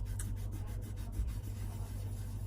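A cloth works polishing paste over a Singer 28k sewing machine faceplate in a steady, close, soft rubbing rhythm of repeated strokes.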